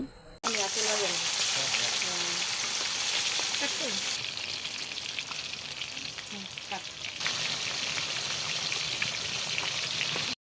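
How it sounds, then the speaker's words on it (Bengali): Fish pieces dropped one by one into hot oil in a wok set off a loud, continuous, spattering sizzle with crackles, up close, and it stays intense from start to finish. "তেল গরম হওয়ার পর আপু একটা একটা মাছ দিয়ে দিচ্ছে। তো চলুন আমরা মাছ ভাজা দেখি।"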